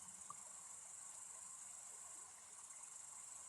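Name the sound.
cicadas chirping in a field at night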